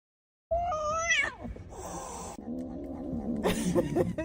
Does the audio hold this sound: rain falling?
no